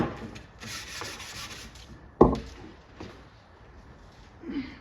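Metal bracket from a Kick Man arcade machine restoration being sanded by hand with 400-grit sandpaper to remove light surface rust, giving a soft, continuous rubbing scrape with one sharp knock partway through.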